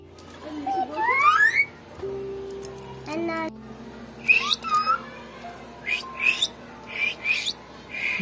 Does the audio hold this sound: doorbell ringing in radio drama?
no